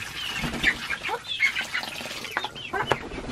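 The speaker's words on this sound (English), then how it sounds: "It was a chicken." A chicken in a homestead yard clucks in a quick series of close, sharp calls, with a few louder squawks near the end and no talk over them.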